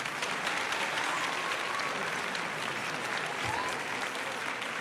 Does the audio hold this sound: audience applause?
yes